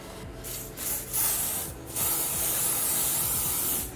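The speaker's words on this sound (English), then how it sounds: "I'm gonna spray some of the lace adhesive right here in the middle" Short hissing bursts of lace adhesive from an aerosol spray can, a couple of quick sprays followed by a longer steady spray, close by.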